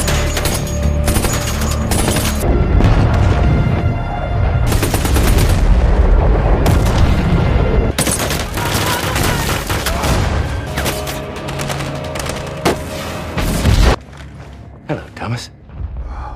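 Continuous army gunfire in a movie battle: dense, loud bursts of shots and booms running for several seconds, then easing into sparser bangs near the end.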